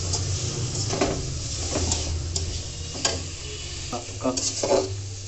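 Cabbage fries with onion, chilli and turmeric in a pan, a steady sizzle punctuated by irregular spatula scrapes and clinks against the metal.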